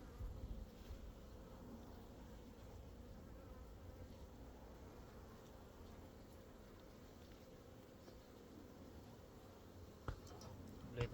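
Honeybees crawl over a brood-filled beehive frame, making a faint, continuous buzzing hum that holds steady throughout with no voices.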